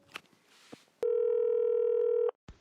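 A phone call rings through before reaching voicemail: one long, steady electronic ring tone lasting over a second, clear and isolated, with faint clicks before and after.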